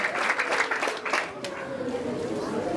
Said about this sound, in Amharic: ለእግዚአብሔር አጨብጭቡ።